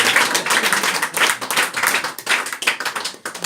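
Audience applause after a card trick at a live magic show: a close, steady round of clapping from several people, lasting throughout at an even level.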